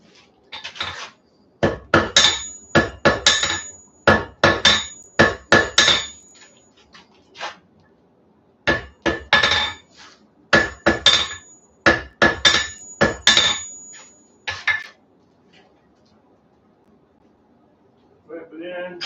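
Hammer blows on hot steel at an anvil while forge welding a wheat twist, loud ringing strikes in quick rhythmic bursts with short pauses between groups, close and clear.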